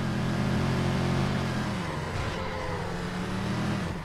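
A video game car engine drones loudly and continuously, holding a deep revving tone that dips and rises slightly, close and steady throughout.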